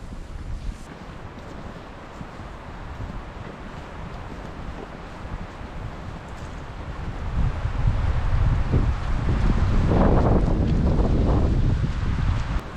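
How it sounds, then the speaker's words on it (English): Wind gusting outdoors on an open paved road in Blue Rock State Park, a steady rushing roar that buffets the microphone and swells louder and heavier in the second half. "the wind's kicking up again now that we're out of the woods"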